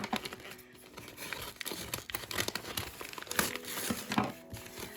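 Crisp paper crinkling and rustling in irregular bursts, close by, with occasional sharper tearing-like rustles throughout.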